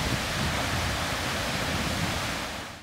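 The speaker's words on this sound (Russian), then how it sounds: "местами оглушительный рев водопадов" Roar of a mountain waterfall, a dense and steady broadband rush that stays loud throughout and tapers slightly at the end, with no voices.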